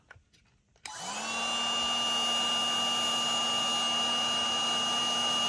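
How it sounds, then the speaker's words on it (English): A DeWalt battery-powered portable heat gun switches on after a brief quiet moment and then runs with a steady, close whirring blower hum and a rising tone that holds evenly to the end. "It is a portable heat gun, not nearly as powerful as a traditional heat gun"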